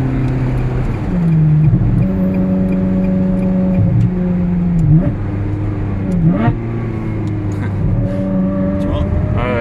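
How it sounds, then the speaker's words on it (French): A Ferrari 360 with an F1 automated gearbox revs and accelerates, its engine note climbing and then dipping at several gear changes in a steady rising pattern. People talk in the cabin over the engine. "petit coup de gaz et puis là même quand tu tapes un peu dedans, on sent que c'est plus violent le passage des rapports quand même"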